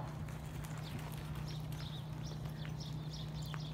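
A horse walks during a riding lesson, its hooves clip-clopping in a steady, faint rhythm beneath a constant low hum, with a few bird chirps in the background.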